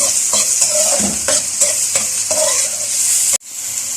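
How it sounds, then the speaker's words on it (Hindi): Onions for a mince and french fries dish sizzle in a pan while a spoon stirs in quick rhythmic scrapes and knocks, close and steady, then the sizzle briefly cuts and resumes. "ये 2 प्याज है मैंने नॉर्मल साइज के लिए हैं। इसको भी हमने सौते बस करना है।"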